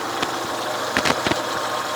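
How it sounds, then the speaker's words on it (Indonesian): The engine of a 1996 car idles with a steady, even rumble, close up, with a few brief louder knocks and clicks breaking the drone. "Saya akan cek suara mesinnya."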